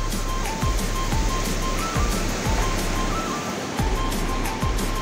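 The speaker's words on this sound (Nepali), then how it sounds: "खोला यस्तो छ त्यस्तो बगिरहेछ" A mountain river along a village road in Khotang, Nepal, rushes in a continuous loud broadband roar, with faint repeating low thumps and a thin steady tone beneath the flow.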